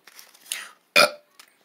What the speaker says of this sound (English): that was the shortest burp I ever heard